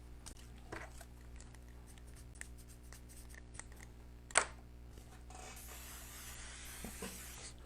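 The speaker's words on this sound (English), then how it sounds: "I'm going to spray this lightly." A hissing spray of aerosol fixative onto a drawing bursts out in the second half, a steady broadband rush lasting a couple of seconds, over a quiet room hum with faint scratching earlier.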